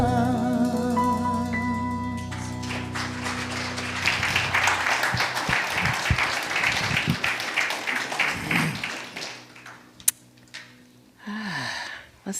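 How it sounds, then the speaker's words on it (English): Church congregation applauding after a musical performance, clapping rising out of fading sung notes and continuing unevenly for several seconds before thinning, with a sharp knock and brief noise near the end. "Give them another round of applause."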